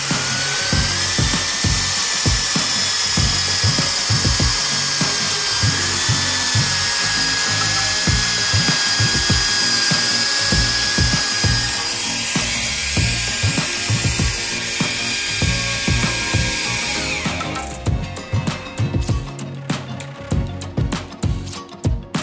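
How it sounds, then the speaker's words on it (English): A power drill running on a URJABOX Powerwall home battery whines with a high-pitched motor tone and rapid rhythmic ratcheting clicks, loud and close, then cuts to a sputtering of uneven clicks near the end. "See how easily the power drill machine connected to URJABOX Powerwall and running smoothly."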